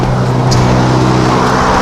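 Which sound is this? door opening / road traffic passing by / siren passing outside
road traffic passing by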